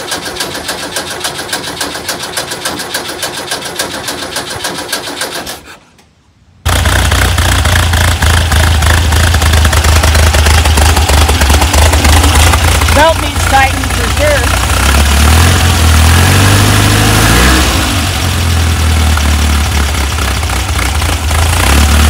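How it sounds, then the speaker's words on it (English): A VW bus engine, rewired after a fire melted its wiring, runs loudly, then drops out briefly before cranking back to life and settling into a rough, steady idle with uneven revving, a person talking over it. "Let's see if it'll start now."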